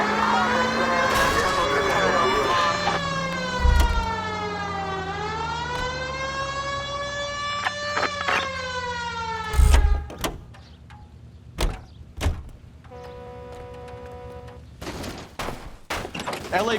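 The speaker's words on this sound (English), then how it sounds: "Hit the siren." A wailing police siren in the video game L.A. Noire rises and falls over engine noise, punctuated by loud bangs and sharp impacts, with a brief electronic warble near the end.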